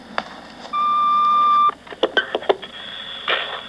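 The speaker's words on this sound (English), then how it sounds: "At the sound of the tone, please leave your name, phone number," A home answering machine sounds its long steady beep tone after the outgoing greeting, a single sustained electronic note lasting about a second, followed by clicks and brief handling noises.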